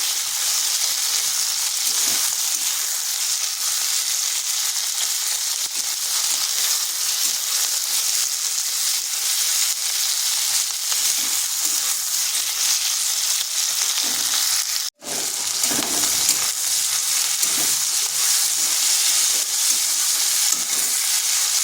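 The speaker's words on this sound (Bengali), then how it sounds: "এগুলোকে মিডিয়াম আঁচে আর একটু ভেজে নিচ্ছি" Tomatoes fry over medium heat after browned onions in a pan, giving a steady, close, hissing sizzle that continues throughout with occasional soft stirring scrapes and one brief dropout.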